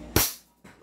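An airsoft pistol fires a single short, snappy shot at close range, followed by a brief silence and faint handling noise.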